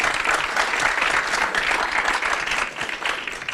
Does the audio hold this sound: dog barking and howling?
no